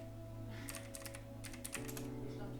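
Someone types on a computer keyboard nearby, a short burst of quiet irregular clicking key taps over a low steady hum.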